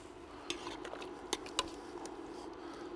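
Cutlery clinks and scrapes against dishes as Texas-style chili of tomatoes, garlic, beef chunks and canned cannellini beans is plated, a few small sharp taps over a quiet background.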